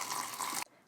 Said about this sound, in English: And then I'm just going to add some hot water.